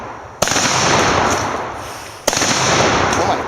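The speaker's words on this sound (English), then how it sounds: "I'm going to shoot it with slugs." A gun fires slugs at a dishwasher outdoors, two sharp loud blasts about two seconds apart, each followed by a long ringing reverberant tail.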